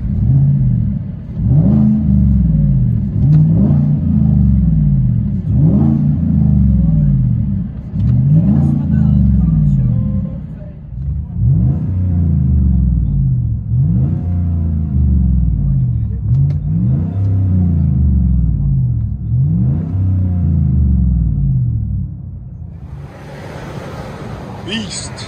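From inside the cabin of a Chevy Tahoe with a 5.3L V8 and a Dynomax Race Bullet or straight-pipe exhaust, a deep exhaust rumble swells through a series of rhythmic revs, loud and steady for most of the clip before easing off near the end.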